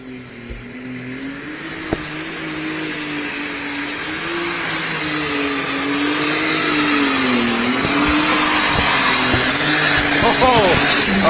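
A light super stock pulling tractor makes a pull at a county fair tractor pull. Its engine holds a loud, sustained high-pitched scream that builds steadily in power, with a few sharp knocks and a short burst of crowd or announcer voice near the end.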